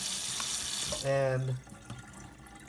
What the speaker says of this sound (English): I'm gonna fill up the water